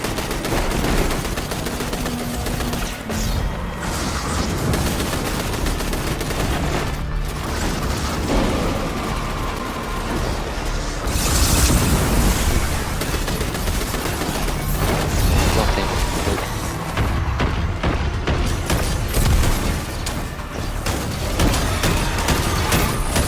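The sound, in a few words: gunfire from a gun in the video game Destiny 2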